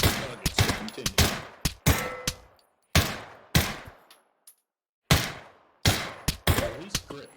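Gunshots at targets in the VR shooter Pavlov, sharp separate reports fired singly and in quick pairs with brief silent pauses between groups, loud and close.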